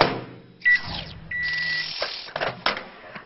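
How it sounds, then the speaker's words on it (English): A microwave oven melts chocolate in a large microwavable bowl: a steady running hum broken by a few bright electronic beeps and clunks near the end. "melt it in the microwave, taking it out to give it a bit of a stir every now and again"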